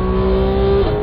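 Porsche 911 GT3 MKII race car accelerating hard on the Red Bull Ring, a loud, close, steady high-revving engine drone that holds one rising pitch for most of a second before a brief shift near the end.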